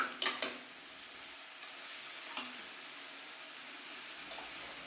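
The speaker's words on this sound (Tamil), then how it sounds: "பாருங்க இப்போ நல்லா வதக்கிட்டோம்" A soft, steady sizzle of mutton frying in a pan, with a few light clinks and scraping stirs near the start, fairly quiet throughout.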